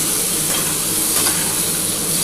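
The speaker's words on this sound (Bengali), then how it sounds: "আগে প্রথমে কিন্তু আলু আর কুমড়োটা একটু ভেজে নিতে হবে।" Potato and pumpkin frying in a pan give off a steady, loud, even sizzle with constant hissing and a little stirring, and nobody talks.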